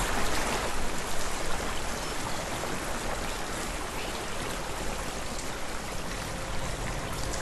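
A waterfall in the video game Hellblade: Senua's Sacrifice rushes as a constant broadband hiss and splash, steady and fairly close with no talking.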